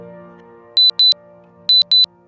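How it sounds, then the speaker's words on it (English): A wristwatch alarm in an animated story sounds four short, clear electronic beeps in two quick pairs over a faint low hum, with no talking. "watch alarm went off"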